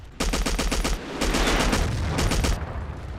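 Bursts of rapid automatic gunfire in the Battlefield 1942 video game, set at the Siege of Tobruk, rattling loudly in two long volleys with a short break between them and no talk.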